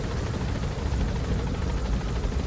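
Helicopter in the Metal Gear Solid 5 video game, a loud continuous rotor and engine drone that fills the scene without a break.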